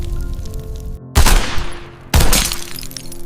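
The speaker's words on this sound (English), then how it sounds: "This is what happened when a bullet meets our multi-layered armor." Bullets striking multi-layered tank armor, two sharp loud impacts about a second apart, each a bright crack decaying into a rattling shatter, over a low rumbling background.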